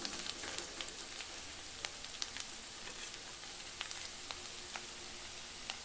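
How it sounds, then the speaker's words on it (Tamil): Onions sauté in a pan for a chicken curry, giving a steady, close sizzle dotted with sharp crackles and pops throughout, with no voices. "வெங்காயம் வேகிற அளவுக்கு வதங்கினா போதும்."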